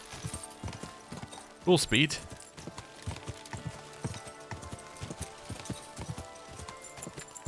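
Horse hooves galloping in the video game Kingdom Come: Deliverance II, a steady rhythmic clip-clop at a quick pace, moderately faint under someone talking, with a brief louder burst near the start.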